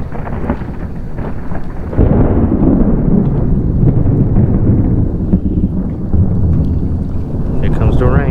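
Heavy rumbling thunder rolls loudly through a pre-front thunderstorm during a fishing outing, with a deep sustained roar that swells midway and rain noise underneath.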